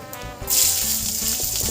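Garlic cloves dropped one by one into hot oil already holding dried red chillies and nigella seeds, setting off a loud, close, steady sizzle of frying that swells and keeps crackling, with no voices.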